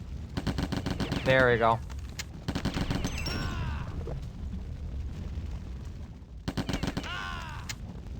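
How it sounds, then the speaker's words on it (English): Rapid bursts of flechette gun fire in a video game, loud and close, in several clusters separated by pauses, with someone talking between the volleys. "Where's the fletchet gun? I really need the fletchet gun."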